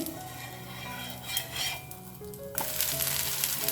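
Dosa batter sizzles and fries on an iron tawa with a soft, steady crackle. Metal utensils clink against the pan, and the sizzle swells sharply near the end as the dosa is flipped.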